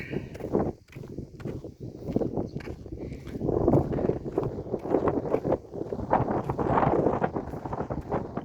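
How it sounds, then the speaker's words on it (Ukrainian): Gusty wind rumbles and buffets the microphone continuously at close range, rising and falling in strength. "Вітер дує, не дасть нам знімати."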